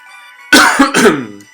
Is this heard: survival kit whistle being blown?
no